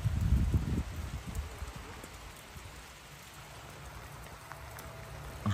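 Rain falls steadily over an outdoor site where workers are fitting metal roofing and gutters, a soft continuous patter with a few louder knocks and rustles near the start, then a quieter even wash.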